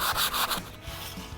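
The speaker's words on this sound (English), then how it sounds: "You're gonna sand down the surface." Wood being hand-sanded smooth for a craft wall-hanging, with steady back-and-forth rubbing strokes that are strongest at first and then soften into quieter scraping.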